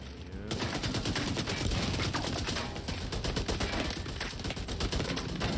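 Automated turret in The Division 2 firing at the player, a loud, rapid, continuous burst of gunfire that keeps hammering for several seconds.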